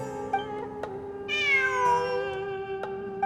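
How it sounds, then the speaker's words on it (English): A cat meows in the video game Genshin Impact during a ruins exploration event, one drawn-out, clear meow rising then falling, heard alone over steady game music with a few soft clicks. "It really is a cat."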